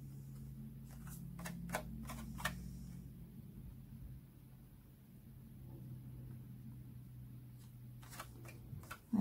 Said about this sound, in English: I can just scrape those off with my nail